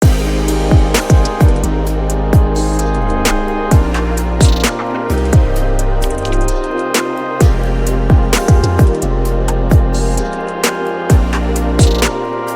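A trap beat with deep, booming 808 bass notes under sustained chords, punctuated by sharp, steady drum hits and crisp hi-hats, loud and continuous.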